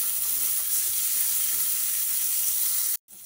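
Ginger, onion and tomato frying in a hot pan, a steady bright close sizzle and hiss that cuts out sharply for a moment near the end before resuming more quietly.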